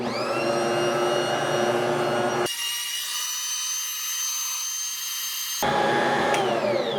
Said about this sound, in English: pull our camera over here to our mixer, and we're just going to mix it on low for about 2 minutes